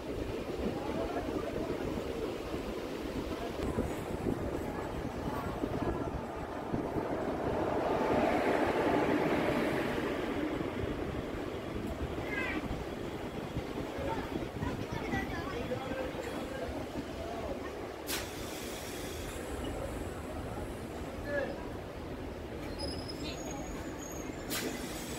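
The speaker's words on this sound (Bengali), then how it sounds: "প্যাসেঞ্জারটা ছাড়ছে।" An Ahmadpur-Katwa passenger train pulls out of a crossing station, heard as a steady low rumble that rises slightly partway through, under occasional talk.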